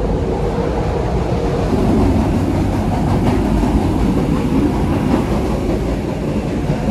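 Train wagons roll steadily over rails with a constant low rumble and faint rhythmic clatter, close and loud, no voices.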